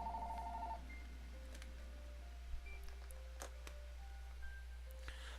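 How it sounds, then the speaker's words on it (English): Phone ringing: a short electronic melodic ringtone sounding at the start, then giving way to quiet scattered tones and faint clicks over a steady low hum. "Love when my phone rings in the middle when I'm trying to do this"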